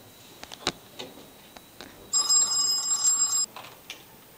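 A telephone rings once with a single electronic bell burst of about a second, loud and close, amid faint background noise and clicks.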